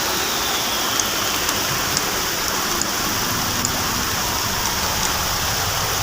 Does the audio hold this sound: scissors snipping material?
no